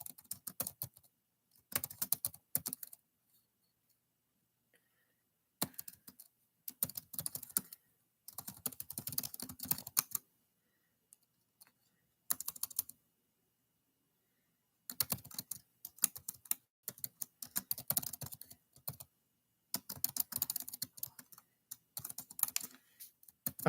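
Bursts of fast typing on a computer keyboard during a home livestream, close and crisp, coming in irregular runs of clattering keys separated by short silent pauses.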